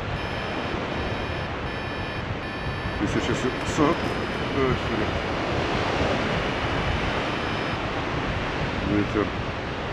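Steady, loud wind roars across the microphone during a paragliding flight over the mountains near Sopot, Bulgaria, a broad continuous rush with brief gusts and faint talk buried under it.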